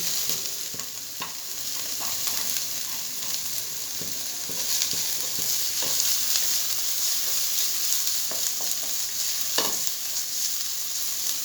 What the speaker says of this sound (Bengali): আলুটা হালকা ভাজা হয়ে গেছে, এর মধ্যে দিয়ে দেবো একটা ছোট পেঁয়াজ কুচি।